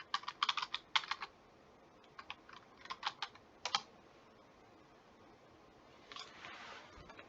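Someone types addresses on a computer keyboard in short bursts of crisp nearby keystrokes separated by brief pauses, followed by a softer cluster of taps at the end.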